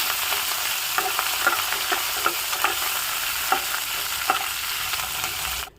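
Dried red chillies and curry leaves frying in hot oil in a pan, a loud continuous sizzle close up, punctuated by soft rhythmic stirring taps, no one talking, cutting off abruptly at the end.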